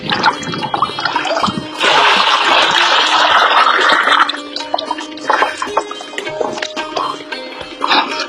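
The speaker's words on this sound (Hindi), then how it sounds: "फिर बाद में हम इसमें डालते हैं गुड़, जो पानी में डाल के रखा है 2 किलो गुड़।" About two kilograms of jaggery dissolved in water poured into a farm mixture, a loud sustained gush and splash lasting a few seconds, followed by dripping and sloshing.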